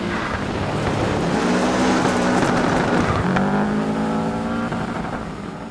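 Rally car engine in Dirt Rally, driven on a Fanatec CSL DD wheel, revs loud and steady throughout, with gear-change pitch sweeps rising and falling and faint tire noise under the drone.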